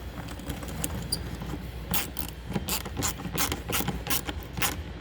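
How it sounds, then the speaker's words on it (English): Ratchet wrench clicking in quick bursts while tightening the hose clamp on a GMC Sierra's air intake tube, close and distinct with brief pauses between strokes. "don't forget to go and tighten your hose clamp back up for the air intake tube"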